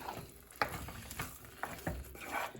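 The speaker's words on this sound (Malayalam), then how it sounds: "അപ്പോൾ ഇടയ്ക്ക് തന്നെ ഇളക്കി കൊടുക്കണേ" Soaked rice goes into a pan of tomato masala for tomato rice and is stirred, producing soft scraping, clinks and a light sizzle in irregular bursts, close and fairly quiet, with no voices.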